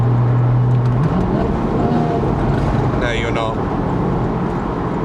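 Porsche 981 Boxster S sports exhaust running loud and close, with a low droning engine note that drops away on lift-off into a raucous burbling roar inside the cabin. Someone speaks briefly over it.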